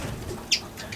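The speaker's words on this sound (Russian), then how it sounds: "Теперь у нас есть попугаи" Male budgerigar parakeets chirp softly nearby, with one brief bright tweet standing out over a low indoor background.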